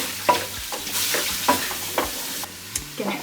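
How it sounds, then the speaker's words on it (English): Carrots, celery and garlic sauté in a hot pan while a utensil stirs them. Steady sizzling runs throughout, and several sharp scraping strokes come at irregular intervals. No one speaks. "We're going to cook up our carrots, our celery, and our garlic."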